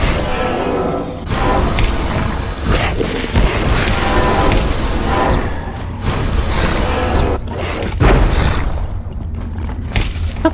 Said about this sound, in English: They just keep exploding at the minute